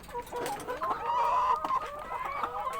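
Laying hens in a coop give repeated close clucks and short squawks, several birds overlapping in a steady, busy chatter.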